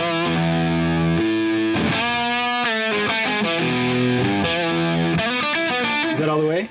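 A Gibson Les Paul R9 electric guitar played through a fuzz pedal, dialed toward a dying Tweed Deluxe tone, rings out in thick, saturated chords and short riffs, loud and close, with no talking.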